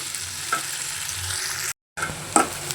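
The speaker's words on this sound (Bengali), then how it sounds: "পেঁয়াজ কুচি আর হচ্ছে দারচিনি এলাচ আর তেজপাতা দিয়ে দিলাম এগুলো আমি এখন লাল লাল করে ভেজে নিব" Chopped onion frying in oil with cinnamon, cardamom and bay leaf, a steady close sizzle with a few soft stirring scrapes and a brief gap partway through.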